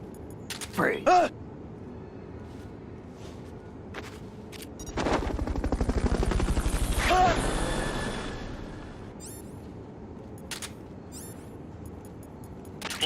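Helicopter engine noise from a Fulton recovery in a video game, a sustained broadband rotor and engine roar rising for a few seconds mid-clip, with brief game effects and clicks around it.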